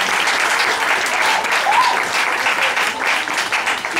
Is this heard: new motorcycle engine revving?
no